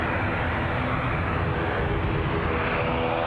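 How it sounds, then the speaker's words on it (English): A loud, continuous aircraft engine roar at an airport, steady and close, its tone gradually shifting in pitch as it runs. "I think, listening to the change of engine pitch"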